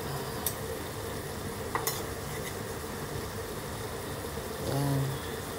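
Steady sizzle of beef steak frying in a pan as white onion goes in, with a faint stir and a few light clinks of utensil against the pan, fairly quiet throughout.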